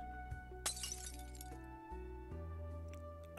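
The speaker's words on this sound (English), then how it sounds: "I'm sorry, I accidentally broke my wine glass." A wine glass shatters with a bright crash and tinkling fragments, set against a steady musical background of sustained tones; the break is clear and prominent near the start.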